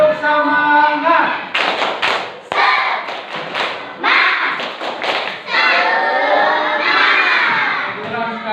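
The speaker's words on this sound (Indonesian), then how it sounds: "Tepuk semangat dulu ya. Oke, tepuk semangat." A class of children performs the 'tepuk semangat' clapping chant, loud rhythmic bursts of claps and thumps mixed with shouted, chanted voices, close and energetic, with the leader's voice heard before the clapping begins.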